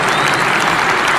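Dense, steady applause from a large stadium audience, loud and continuous with no voices over it.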